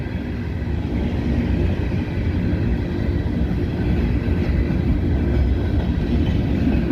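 A CSX train led by a Seaboard Air Line heritage locomotive rumbles steadily past at close range, a continuous heavy roar with faint rhythmic clatter from the wheels.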